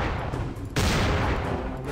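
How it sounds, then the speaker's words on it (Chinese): Rapid bursts of gunfire in the Halloween horror video game, a loud sharp volley with another sudden strong blast midway, filling the whole stretch without talk. "开枪！"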